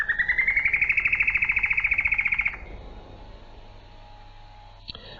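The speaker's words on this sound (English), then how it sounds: "plumbeous antbirds have a particularly distinctive fruity trill." A plumbeous antbird gives a rapid rising trill of evenly pulsed notes lasting a couple of seconds, loud and close, then stops, leaving faint hiss and a single soft click.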